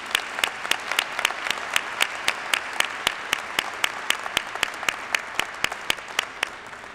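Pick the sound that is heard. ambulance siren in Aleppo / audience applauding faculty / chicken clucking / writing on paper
audience applauding faculty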